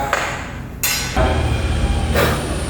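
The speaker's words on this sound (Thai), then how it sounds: "ตอนนี้เราก็เจาะสกรูเจาะเจาะแล้วก็ยึดให้แน่นนะครับ" Drill driving screws to fasten parts of a swing built from a grass trimmer, with a loud whirring burst about a second long near the start and a longer drill run that ends in a bright metallic catch, recorded close.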